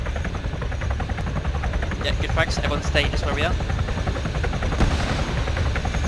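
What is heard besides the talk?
helicopter in a video game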